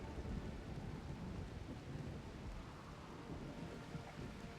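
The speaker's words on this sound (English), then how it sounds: "It's raining." Rain falls steadily in a RimWorld thunderstorm, a soft continuous wash with low thunder rumbling underneath throughout, faint and even in level.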